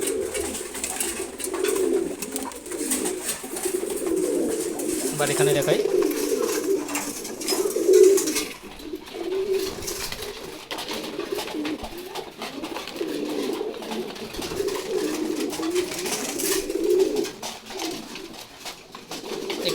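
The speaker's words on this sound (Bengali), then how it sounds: "খুবই সুন্দর এক জোড়া কবুতর" Pigeons kept as pets coo repeatedly in soft, low rolling phrases, close by and continuous, with someone speaking briefly over them.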